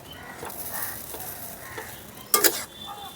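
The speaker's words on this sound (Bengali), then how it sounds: "এখন নাড়াচাড়া করে দেখেন কতটা ঝরঝরা হয়েছে সুজির উপমাটা।" Suji upma being stirred in a pan after resting covered on a low flame: soft scraping strokes at a steady pace, with one brief louder clatter of the spoon near the end.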